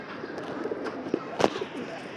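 Caged pigeons coo softly in a few low, scattered calls against a quiet background of faint shuffling.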